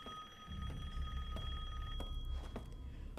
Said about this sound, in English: I don't like phones ringing at me.